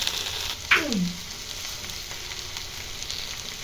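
Okra is stir-fried with salt in a pan, giving a close, steady sizzle with a brief squeaky scrape near the start and no talking.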